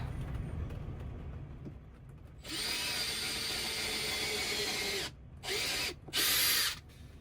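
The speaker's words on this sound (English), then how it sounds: "Drill through the table." A power drill drilling through a table inside a converted Toyota Coaster campervan whines steadily for a few seconds, then cuts out and restarts in two short bursts, close and fairly loud.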